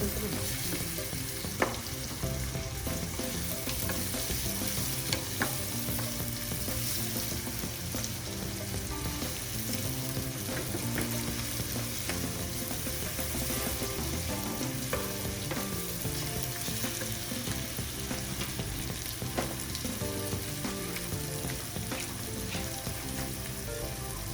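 Tomatoes fry in a pan for a lentil and kidney bean gravy, giving a steady close sizzle with scraping stir sounds throughout and no voices.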